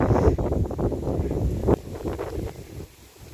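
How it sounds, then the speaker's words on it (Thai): Strong wind buffets a microphone at an outdoor car park, heavy rumbling gusts rising and falling, then easing toward the end. "ลมแรงมากพี่น้อง"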